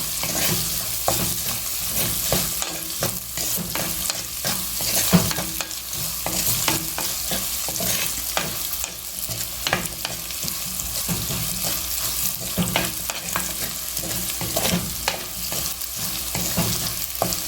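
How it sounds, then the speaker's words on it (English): Onions sauté in a pan for a pepper garlic curry, a steady sizzle broken by frequent scraping and stirring strokes throughout, close and fairly loud. "saute a little till the onion turns limp"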